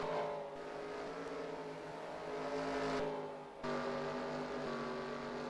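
Race cars roaring around Mosport in NASCAR Racing 2003, a continuous layered engine drone from several cars with pitch shifts as they pass and change gear, loud and sustained with no talk.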